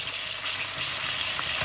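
Garlic, capers and anchovies fry in olive oil in a pan, a dense, even sizzle with soft crackles holding steady and close throughout.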